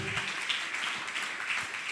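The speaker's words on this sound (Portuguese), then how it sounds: "aplauda Ele" A church congregation claps during a worship service, a dense continuous patter of many hands filling the short stretch without pause.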